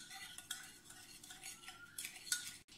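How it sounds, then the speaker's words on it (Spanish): Utensils clink and scrape against a bowl as a sweet salad gets mixed, with a steady run of soft metallic clatter and a few sharper taps standing out, fairly quiet and close. "Ahora mezclar bien."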